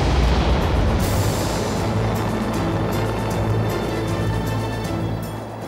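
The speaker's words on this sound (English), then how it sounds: "A Russian Proton rocket, the same design once used in the space race, now joins the effort launching the first piece of the station." A Russian Proton rocket launches with a loud, continuous roaring rumble, deep and broadband, holding steady throughout with no voices.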